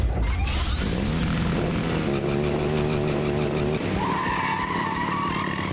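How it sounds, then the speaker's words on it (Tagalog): Motorcycles rev and whine loudly at an extreme sports competition, pitch climbing and dropping in bursts as they jump, with tire-like screeching over continuous motor noise. "ingay ng mga nagre-revolusyon at naglulundagang mga motor"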